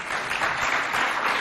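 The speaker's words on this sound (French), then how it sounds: "On l'applaudit bien fort, s'il vous plaît." Audience applause at a school event, a dense, even wash of clapping lasting a moment at steady loudness, with no voices standing out.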